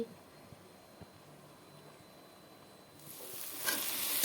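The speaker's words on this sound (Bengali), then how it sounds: "মশলাগুলোকে কষিয়ে নিই" Spice paste being sautéed in fish oil for a Bengali katla fish and tomato chorchori: faint scraping stirs at first, then a loud, close hiss of frying swells and holds to the end.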